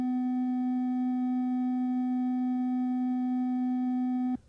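A steady 250 hertz sine test tone holds for about four seconds at even loudness, then cuts off abruptly.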